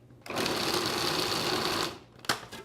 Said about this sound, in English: Now I'm just giving these a little rough chop in the food processor.